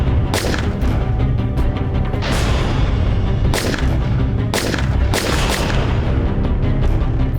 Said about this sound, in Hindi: सर मैंने बहुत सारी गोलियां चलाई वहां पे।